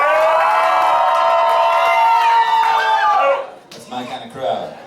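Crowd of audience members cheering and whooping loudly for about three seconds, then fading into scattered shouts and laughter.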